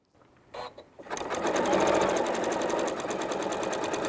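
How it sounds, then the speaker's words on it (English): Sewing machine satin stitching toward the corner of an embroidered pillow. It starts with a couple of soft clicks, then settles into a steady, close, rapid mechanical chatter. "I'm going to stitch right up to the edge of the corner, and I'm going to stop in the right needle swing."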